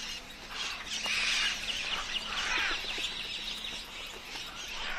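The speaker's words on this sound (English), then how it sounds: "Mealy parrots descend in droves, seeking the same popular cure." A flock of mealy parrots gathers by a river, with many squawking, chattering calls overlapping continuously at moderate distance over a steady background hiss.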